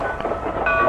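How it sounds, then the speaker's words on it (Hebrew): Rumbling rail noise of a train entering a station, a steady close roar with faint clatter and a brief high squeal toward the end, alone without voices. "רכבת נכנסת. רכבת יוצאת."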